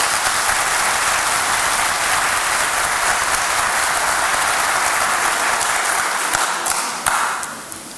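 Sustained applause from a seminar audience at a celebration of the Republic's 89th anniversary, a dense, steady wash of many hands clapping that stays loud throughout before thinning out near the end.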